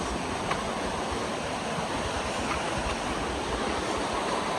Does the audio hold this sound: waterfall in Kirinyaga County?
yes